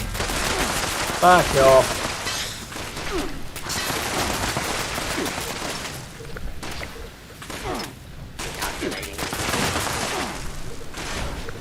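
Rapid gunfire from a Fallout 76 game fight rattles in dense bursts and volleys with thuds, nearly continuous and loud, while a player's voice speaks briefly over it.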